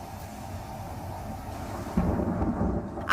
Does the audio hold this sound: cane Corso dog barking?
no